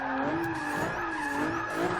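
Car braking hard on a track with tyres squealing, a continuous high skid tone that bends and wavers over about two seconds, close and fairly loud.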